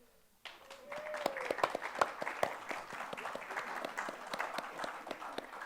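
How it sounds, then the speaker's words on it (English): A round of applause from an audience at a book talk, dense clapping starting abruptly and holding steady with a few louder sharp claps, fairly close. "I'd like to just give everyone a round of applause for Judy"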